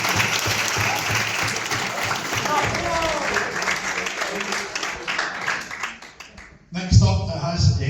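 Applause from the audience at a youth football club's player of the year awards night fills most of the stretch, steady and dense, while a voice talks over it in the middle. The clapping fades near the end and louder talk takes over.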